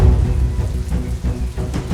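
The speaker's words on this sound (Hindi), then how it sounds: "वर्षा ऋतु आरंभ होने को है।" Steady rain pours over an outdoor garden, a dense continuous hiss with a low rumbling undertone throughout, no voices.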